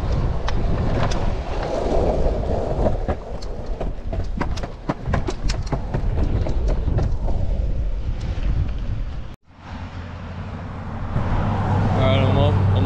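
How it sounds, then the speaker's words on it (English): Wind buffets the microphone outdoors in gusty conditions while someone longboards along the Pacific Coast Highway near Thalia Street, producing a steady low rumble throughout with a brief dropout near the end. "Kind of getting windy."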